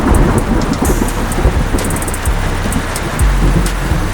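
A thunderstorm with heavy, steady rain pouring down and deep rolls of thunder rumbling beneath it, loud and continuous throughout.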